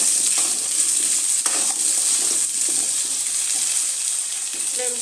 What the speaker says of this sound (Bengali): আলুগুলো একটু ভালো করে ভেজে উঠিয়ে নেব।